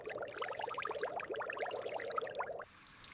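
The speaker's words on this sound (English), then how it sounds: "I wash them under the water." A peeled red onion is rinsed under a running kitchen tap, a soft, quiet splash and trickle that runs steadily for a few seconds and then stops abruptly.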